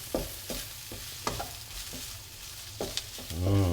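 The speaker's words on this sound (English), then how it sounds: "because the rice is already cooked, you pretty much just need to heat it up" Already cooked rice frying in butter in a pan, with a spatula scraping and stirring at irregular intervals over a soft steady sizzle, close by and without speech.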